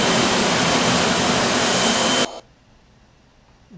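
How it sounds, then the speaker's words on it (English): A CNC router's vacuum hold-down system roars loudly with a steady, dense whoosh, then cuts off abruptly, leaving a quiet room hum. "You'll hear the the vacuum system turn on, ramp up"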